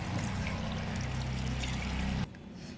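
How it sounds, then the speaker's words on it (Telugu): Water is poured into a pot of tamarind, making a steady, low splashing gush at close range that cuts off abruptly near the end, with no talk over it. "దాంట్లోనే ఇప్పుడు మేము వాటర్ వేస్తున్నామండి."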